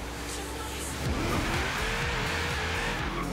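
A Subaru Brat racing in the video game Forza Horizon 3, its engine roaring steadily while the tires squeal and skid in long, wavering whines.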